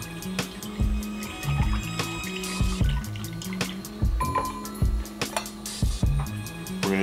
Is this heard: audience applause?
no